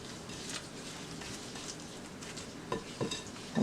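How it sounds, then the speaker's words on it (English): A spatula scrapes cold-oven 7 Up pound cake batter from the sides of a mixing bowl, giving a continuous soft, wet stirring and scraping texture with a few sharper knocks near the end, close and alone. "scrape it from the sides also and put it back in the batter"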